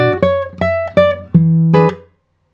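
A classical guitar plays a short tango phrase: five clear plucked notes and chords in an even rhythm, close and solo, ending in quick decay to silence.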